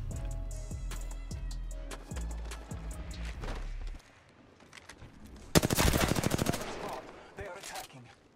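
Gunfire in an Apex Legends match featuring the Mastiff shotgun: a run of rapid shots at first, then a quieter pause, followed by a loud sharp burst of rapid fire in the later half.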